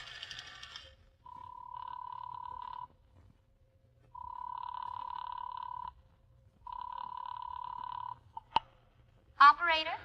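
An old-fashioned telephone bell rings in a radio drama, three long ringing bursts separated by pauses, clear and close in a quiet room, followed by a click and a brief rattle.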